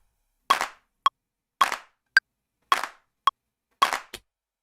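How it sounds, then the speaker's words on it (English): Clap samples in a beat, levelled to an even volume: sharp, bright claps repeat in a steady rhythm, each fuller clap followed by a shorter snap, all at similar loudness and with no voices. "What we're doing is leveling out all these claps so the lower ones sound louder, and they're all in the same range of amplitude"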